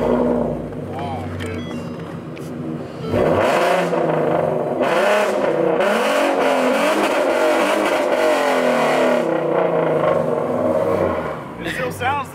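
Loud engine revving from a catless V6 Ford Mustang, with repeated throttle blips and a sustained roar through most of the stretch, starting after a quieter idle and with voices talking over it.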